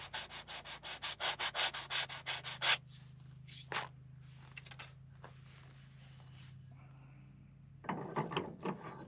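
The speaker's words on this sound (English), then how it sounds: "So I'm just sanding down." A sanding block rubbed back and forth over hardened JB Weld on farm equipment makes rapid rhythmic scratchy strokes, then scattered scrapes and a quieter pause over a low hum, before another burst of sanding.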